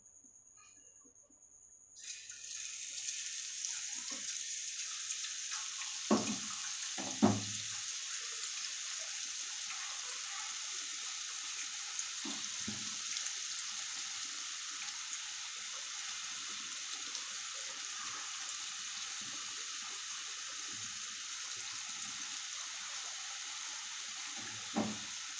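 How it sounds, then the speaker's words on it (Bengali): White boondi batter deep-frying in oil: a loud, steady rushing sizzle starts abruptly and runs on without a break, with a few soft clinks. "এবারে এই সাদা কালারটা ভেজে নেব।"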